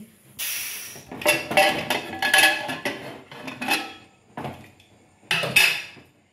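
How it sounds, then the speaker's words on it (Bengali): A pressure cooker being opened after whistling, with rice and mango kheer inside: a string of metallic clanks, scrapes and rattles of lid and pot, fairly close, in separate bursts with short pauses. "দেখো প্রেসারটা আমি খুলে নিলাম"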